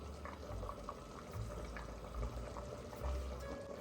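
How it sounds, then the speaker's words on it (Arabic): Cooking liquid poured from one spoon onto another while preparing Lebanese peas and rice, a soft continuous trickle and splash with faint bubbling from a pot nearby, close and fairly quiet. "بشيل بهالملعقة وبدلق فوق ملعقتي"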